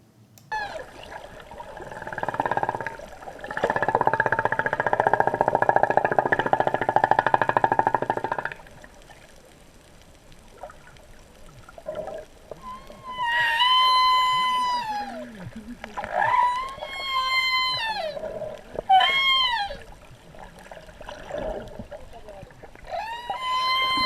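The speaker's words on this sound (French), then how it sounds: "Notre guide ayant repéré une baleine, nous avons plongé pour l'écouter chanter." Humpback whale singing underwater off the islands of French Polynesia, long rising and falling moans and whistling tonal calls in repeated phrases, clear though somewhat distant, after a stretch of broadband water noise.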